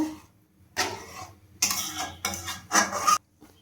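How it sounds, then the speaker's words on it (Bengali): Curry being mixed in a wok-style kadai for a vegetarian dhokar dalna with potatoes, a few bursts of scraping and clattering spoon-on-metal stirring separated by short pauses, close and moderately loud with no talking. "এবার আমি ভালোভাবে মিক্স করে নেব।"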